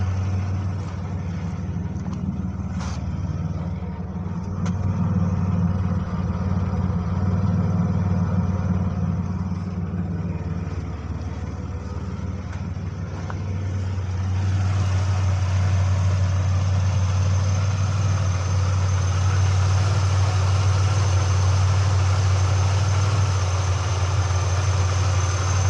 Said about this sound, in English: I'll listen to the exhaust.